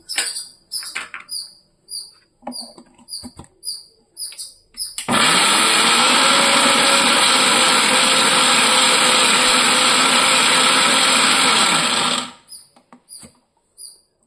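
A mixer grinder whirs loudly and steadily for about seven seconds grinding Ceylon spinach chutney, starting and stopping abruptly, with small clinks and taps before and after.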